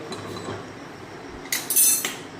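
A metal kadai being picked up and set down makes a few bright clanks and scraping clinks, bunched together in a short burst after a stretch of quiet room tone.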